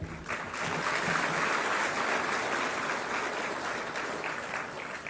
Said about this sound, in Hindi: आप सब शुभकामनाएं हेतु तालियां बजाएं